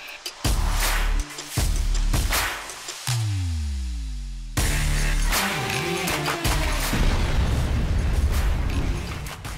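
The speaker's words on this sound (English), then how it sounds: "Only in America can you blow up stuff on your own ranch's gun range." Explosives go off on a private ranch gun range, a string of loud, sharp booms and blasts with rumbling tails, some bursts close together and others separated by brief quieter gaps.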